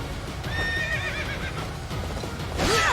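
A Pegasus Knight's horse in Fire Emblem: Three Houses gives a single wavering whinny, clear and up close, followed by a brief sharp game effect at the end.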